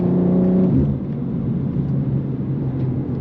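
A BMW G87 M2 drives along back roads, its engine a steady near drone that drops from a brief higher rev into a lower sustained hum.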